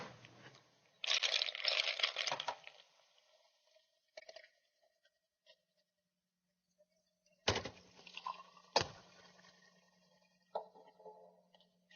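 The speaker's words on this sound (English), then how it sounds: "take these two glasses over to the sink and fill them both almost full of water" Water running at a sink to fill two glasses, with a burst of splashing and crinkly handling early on, then quiet, scattered clinks and drips and a low hum, all faint and close.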